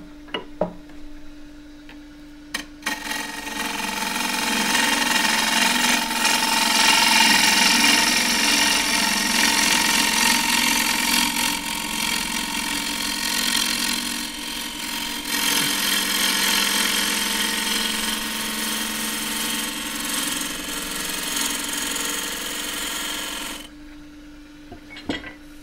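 A wood lathe turns a roughed-out wooden cylinder with a steady motor hum and a continuous rough cutting hiss from the tool, running for over twenty seconds before it stops.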